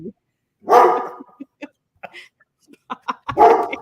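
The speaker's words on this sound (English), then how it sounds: "My dog's barking too." A dog barks loudly nearby in a few sharp bursts, with smaller yips and whimpers in the pauses between.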